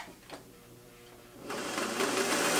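A discarded sewing machine runs with a zigzag cam fitted, its steady mechanical whirr and rapid needle clatter starting soft and then growing louder and fuller partway through, with no talking over it.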